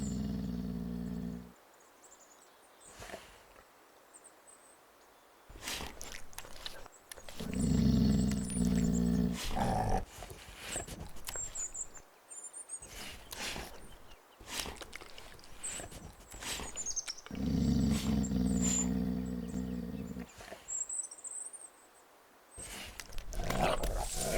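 Wolves growl and snarl in a dominance encounter, with low rumbling growls coming in bursts separated by brief silences. The sounds are close and loud, with harsh roaring peaks.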